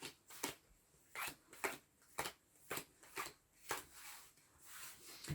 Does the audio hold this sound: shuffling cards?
yes